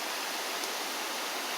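Steady water spray from a Legooin 90-foot hose reel nozzle on a shower-style setting, an even, continuous hiss of fine water throughout with no pauses.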